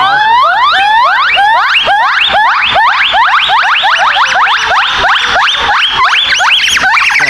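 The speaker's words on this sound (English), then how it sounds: "That white-cheeked gibbon, monkey or ape. Yeah, you can see they're kind of hooting and hollering right now." Loud, continuous whooping song from white-cheeked gibbons at a zoo, a rapid series of rising, siren-like hoots repeating close to the listener for the whole stretch with no talking.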